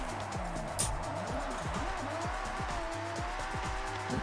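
In the video game Forza Horizon 6, a car performs a burnout with a continuous engine roar and rapidly sweeping tones, mid-loudness and steady throughout.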